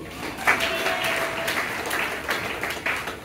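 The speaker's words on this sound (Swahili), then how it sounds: "Pigeni makofi hapo." A church congregation claps hands, a scattered and fairly faint patter with a few louder bursts from nearby hands.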